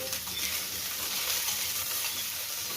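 Bitter gourd frying in a generous amount of oil, a close, continuous sizzle with soft stirring scrapes, no voices.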